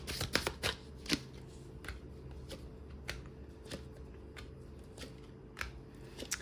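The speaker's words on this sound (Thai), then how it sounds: "ขอล้างไพ่กัน อู้ไพ่กระเด็นมาเลย" Tarot cards being shuffled by hand, with a cluster of sharp card slaps and flicks at first, then sparser, evenly spaced crisp snaps of cards against each other, close and fairly quiet.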